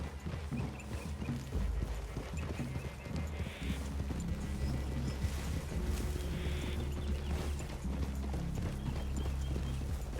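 Horse hooves clip-clop steadily at a walking pace in the video game Red Dead Redemption 2, with a faint whinny and low ambient rumble in the background.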